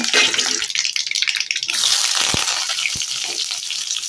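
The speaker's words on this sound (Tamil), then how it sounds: "எண்ணெய் காஞ்சிட்டு கடுகு போட்டாச்சு வாசனை பொருட்கள் போட்டாச்சு" Mustard seeds and whole spices crackle and fry in hot oil for a Tamil sprouted green gram gravy, a dense, loud sizzle with sharp popping bursts throughout.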